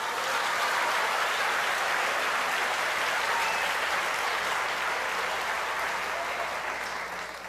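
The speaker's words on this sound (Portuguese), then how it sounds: "Pode aplaudir o Senhor" A church congregation claps steadily during a service, a broad, continuous wash of applause that holds for over seven seconds before easing slightly at the end.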